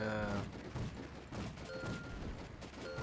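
Rapid gunfire bursts from the Toy Defense video game, a dense clatter of repeated shots and small booms mixed with game effects, fairly faint and continuous over about three seconds.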